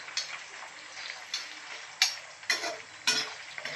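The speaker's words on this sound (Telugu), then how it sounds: "బాగా ఫ్రై అయ్యేదాకా ఆయిల్లో డీప్ ఫ్రై చేసుకోవాలి" Chicken pieces for pickle deep fry in hot oil with a steady sizzling hiss, broken by several sharp bubbling crackles and pops at irregular intervals, close up.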